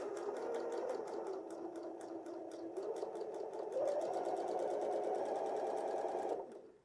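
A Janome computerized sewing machine stitches along the edge of a sample fabric, a steady, fast needle rattle running continuously for several seconds and stopping abruptly at the end, close and alone with no talk.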